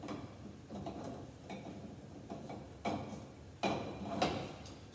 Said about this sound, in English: I need to use a regular ratchet and extension to thread these on